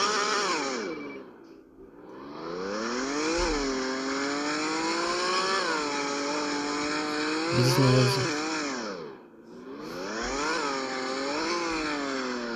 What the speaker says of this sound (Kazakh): машина 100-ге нормально барып тұр